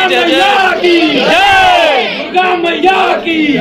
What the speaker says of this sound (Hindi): यहाँ भीड़ लग गई एकदम।